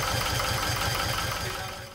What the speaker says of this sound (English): Testing the engine in gear and in neutral, revving up and down